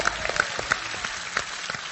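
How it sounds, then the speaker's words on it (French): Audience at a Bobino theatre show applauding the host, a brief, lively burst of clapping from a packed hall with scattered sharper claps standing out. "réserver vos meilleurs applaudissements pour celui qui est un peu le patron finalement"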